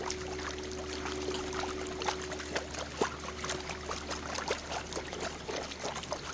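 Water sloshes and trickles steadily in a gold pan during gold prospecting, a faint continuous swirl with scattered small clicks and taps of gravel, no talking.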